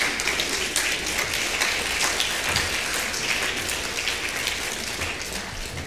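A church congregation applauds in a steady, dense wash of clapping that fills the whole stretch at even loudness, with no voices rising above it.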